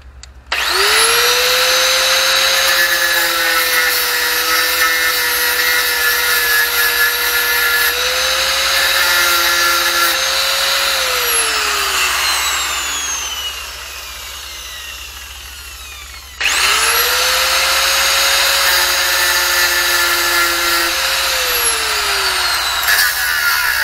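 An angle grinder grinding down a weld on a Zetor 25 tractor, a loud high whine that spins up, runs steadily, winds down, then starts again, up close with no talk.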